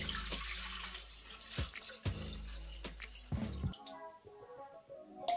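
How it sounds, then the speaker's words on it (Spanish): Tap water runs into a Cecotec Mambo food processor jug as a litre is added for steaming a chocolate sponge, a close, steady pour with splashy bursts that stops near the end. "vamos a añadirle 1 litro de agua"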